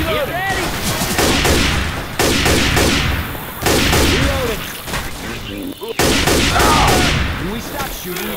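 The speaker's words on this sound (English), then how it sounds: "Let's not all start shooting each other now." Heavy, loud continuous gunfire in the zombie shooter Left 4 Dead 2, with overlapping rapid shots and booming blasts in several long bursts and brief pauses between them.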